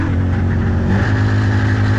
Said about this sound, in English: Idling a little bit high too, maybe a vacuum leak or something.